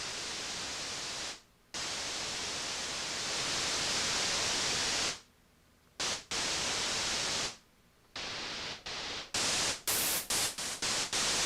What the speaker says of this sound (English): Our riser should probably be in a white noise. So we'll change this to white noise.